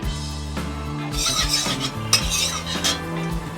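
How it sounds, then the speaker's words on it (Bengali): Sago pearls frying and being stirred in a small spoonful of ghee in a pan for sweet sago payesh, with scraping and rasping of the spoon against the pan and a low sizzle, close and steady, no talking. "আমি সাবুটা ভেজে নেব বলে ছোট চামচের এক চামচ ঘি দিয়ে দিলাম"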